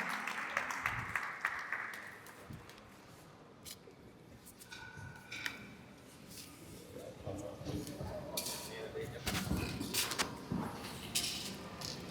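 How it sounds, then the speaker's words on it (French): At a Senegalese panel for a national urban cultures fair, an audience gives scattered applause mixed with voices and room noise, the clapping rising again near the end as a speaker begins. "Sous vos applaudissements."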